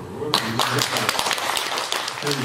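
Audience at a Buddhist dharma assembly in Gwangju clapping, a dense burst of hand claps that starts after a brief pause and continues steadily, fairly close and loud.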